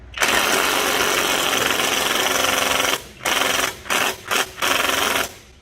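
A pneumatic impact gun rattles on truck belt tensioner bolts on a 2005 Chevrolet Silverado 2500 with a 6.0 engine and a seized tensioner: one long loud burst, then several short bursts with brief gaps.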